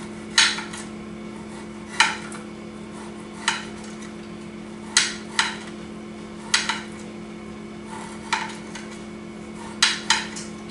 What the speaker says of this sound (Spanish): Y lo vamos a cortar a trozos.